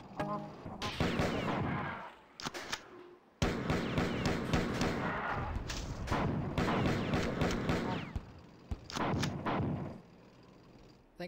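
Video game grenades burst against a wall in a string of heavy, booming blasts with loud thuds, separated by brief quiet gaps, with no talk over them.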